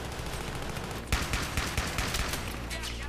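Shotgun gunfire in the video game Battlefield 3 during a co-op mission, with several sharp shots in quick succession over dense, noisy game audio, fairly loud and close.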